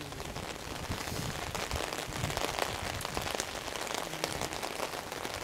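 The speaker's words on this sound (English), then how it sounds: "Listen to the rain." Heavy rain pours steadily onto a city street in Boston's North End, a dense, continuous hiss with scattered close drops spattering, unbroken and fairly loud throughout.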